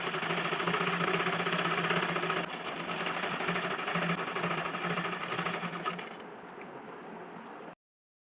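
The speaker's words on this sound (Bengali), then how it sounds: "আমি অপর পায়ের মুহুরিটাও একইভাবে ভাঁজ করে নিয়ে সেলাই করে নিচ্ছি" A sewing machine runs a rapid, continuous mechanical whirr while stitching the folded hem of a palazzo trouser leg, easing to a lighter hum near the end before stopping abruptly.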